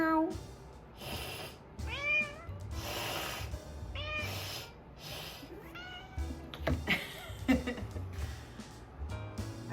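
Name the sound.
cat meowing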